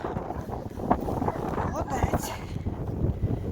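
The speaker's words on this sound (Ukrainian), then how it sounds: "Вітер ужасний." Strong wind buffeting the microphone with rough, gusty rumbling throughout, while a voice can be heard speaking under the noise.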